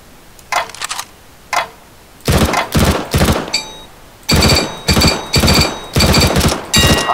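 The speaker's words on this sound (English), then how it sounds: "Fire in short, controlled bursts." Rifle gunfire from Counter-Strike: Global Offensive, fired in short rapid bursts, a few sparse shots first, then repeated loud clusters of close shots with brief pauses between them.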